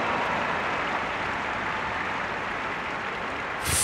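Steady applause from a show jumping audience for a rider's double clear round, continuous and fairly loud throughout with no voices on top, then a brighter swell near the end.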